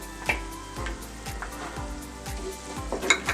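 Mint and green chili paste sizzles in a hot pan for a paneer pulao, a steady frying hiss broken by several sharp spoon scrapes and knocks, with a louder clatter near the end.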